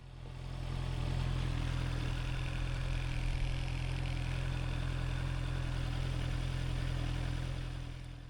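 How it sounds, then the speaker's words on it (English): Motorcycle engine idling steadily with the clutch being let fully out, a low, even rumble that holds constant and close throughout with no revving. "we're going to let the clutch fully out."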